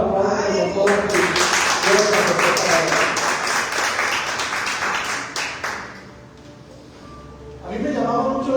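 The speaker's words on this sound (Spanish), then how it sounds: "Si van a aplaudir al Señor, aplaudan con todo" A church congregation claps along steadily for several seconds, the noise thinning out and fading near the end before a voice starts talking again.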